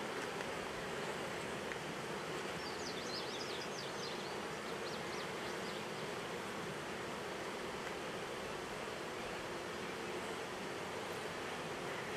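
Honey bees from a strong hive give a dense, steady buzzing drone that continues without a break, close and even, with a few brief higher chirps early on.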